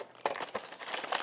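Scissors cut through tape on toy packaging, producing close, quiet crinkling and snipping with a few sharper crackles as the plastic and tape give way.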